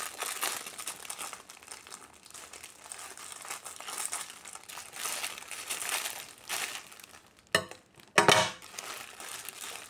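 Plastic packaging around a large flag crinkles and rustles steadily at close range as it is handled and opened with scissors, ending in a few sharper tearing crackles.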